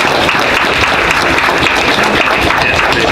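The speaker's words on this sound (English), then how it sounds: "Round of applause." A convention Q&A panel crowd claps steadily, dense and loud, with no pauses across the whole stretch.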